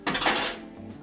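A spoon clinks and scrapes briskly inside a glass, stirring a raspberry egg-white cocktail made with zero-proof spirit; a loud burst of metallic rattling for about half a second, then fading.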